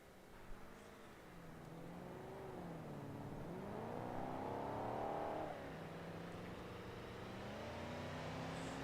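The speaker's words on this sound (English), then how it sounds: "my engine now has a knock, this weird rattle noise, because I drove it too hard last night" A damaged car engine in BeamNG.drive idles and revs with a steady low drone that rises and falls in pitch, carrying a faint rattle underneath, continuous and close throughout.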